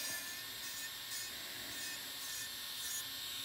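Ceramic burr on a rotary tool filing a patient's nails during nail and callus care, a steady high-pitched whine with faint grinding rasps pulsing in and out as the burr touches the nail, quiet and continuous.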